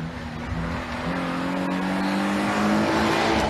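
A GR GR86 rally car at full throttle on a Shibukawa Ikaho special stage at the 2024 TGR Rally gives a loud, sustained engine drone whose pitch climbs steadily, with no pause, close by.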